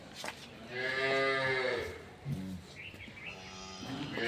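A single long, full-throated Holstein Friesian cow moo close by on a dairy farm, followed by quieter barn noises and a brief low grunt.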